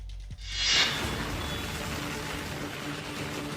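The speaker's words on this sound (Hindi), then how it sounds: "लगातार बारिश, जोरदार बारिश" Heavy, continuous monsoon rain pours down over flooded Ahmedabad streets, a dense, steady hiss that rises quickly after a brief quiet start and then holds loud and unbroken.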